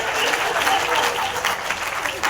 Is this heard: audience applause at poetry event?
yes